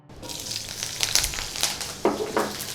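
Halved chilies and garlic sizzling and crackling in hot oil in a wok over high flame, a steady close fry with a few sharper spattering bursts and stirring clatter.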